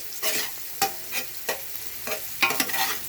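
Ginger sizzles in cooking oil for ginataang langka, close and crisp, with repeated spatula scrapes and stirring bursts roughly every half second.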